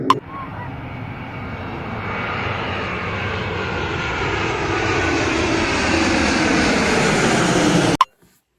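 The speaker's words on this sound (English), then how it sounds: "You might be wondering what that clip's about. It's just planes" Airplane engines roar loud and continuous, swelling slowly as an aircraft passes close by, then cut off abruptly at the end.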